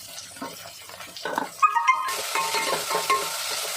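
Onions fry and are stirred in hot oil with curry leaves for a Tamil kara kuzhambu, a steady close sizzle broken by scraping stirs and the clatter of a spoon against the pan.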